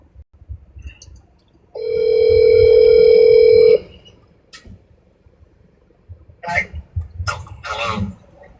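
A phone line rings while a call is placed to a bail bondsman: a single steady electronic tone holds for about two seconds, followed by quieter clicks and brief muffled voices.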